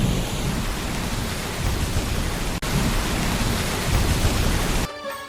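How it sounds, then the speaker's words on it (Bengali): Heavy rain pours as a dense, steady roar with low thunder rumbling underneath, a cartoon storm effect that briefly drops out mid-way and cuts off near the end. "হঠাৎ একটি সন্ধ্যায় ভয়ঙ্কর বৃষ্টির মধ্যে আকাশে বিদ্যুৎ চমকাচ্ছিল, চারিদিকে বৃষ্টির জলে ভরে গেল।"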